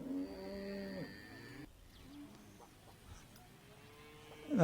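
Cattle lowing at a livestock market with bulls and buffaloes, a long deep moo near the start and another rising call at the end, quiet background murmur between them.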